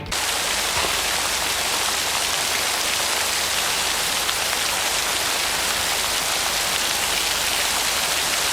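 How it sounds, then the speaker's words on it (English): Steady, heavy rainfall hisses continuously and evenly in a dark outdoor scene from the 1994 film Satantango, with no voices or other sounds. "I just love seeing a black screen with the sound of rain."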